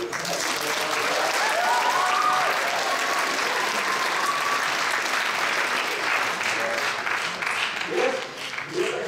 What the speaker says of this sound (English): They're all just clapping.